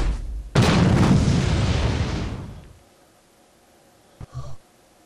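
A Saints Row grenade goes off in one loud, close boom that rolls on and fades over about two seconds, followed by a small muffled pop a moment later.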